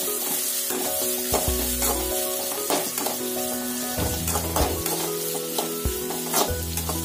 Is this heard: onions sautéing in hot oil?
yes